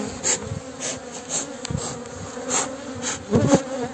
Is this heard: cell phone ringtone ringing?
no